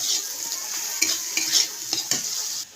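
Shrimp and coconut paste fry in a pan with a bright, hissing sizzle, punctuated by several clinking stirs of a utensil against the metal; close, steady, no voices.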